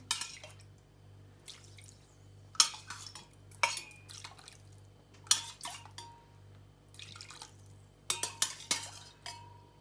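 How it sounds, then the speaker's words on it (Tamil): Water poured from a ladle into a pot while making Seeni Ariyatharam, a sweet sugar-syrup snack, heard as several separate splashing pours with metal clinks of the ladle against the vessel, close and fairly quiet, with no talk. "நான் ஒரு இந்த கரண்டியால் ஒரு அஞ்சு கரண்டி தண்ணி விட போகிறேன்"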